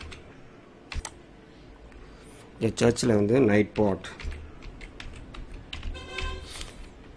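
Scattered keystrokes on a computer keyboard as a search term is typed into YouTube, light clicks spread across the clip with a person speaking briefly in the middle.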